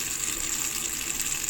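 Water rushing from a reverse osmosis system tank under high pressure, a steady close hiss and gush with no talk.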